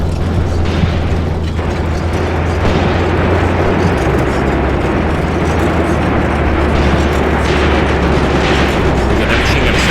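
Tank cannon fire and explosions from a WW2 tank battle game set in the ruins of Tunisia, 1943, rolling on as a dense, continuous wall of booming blasts and mechanical rumble, loud and without pause.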